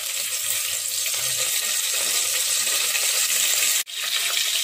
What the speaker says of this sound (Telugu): ఇందులోనే కరివేపాకు వేసేస్తున్నా.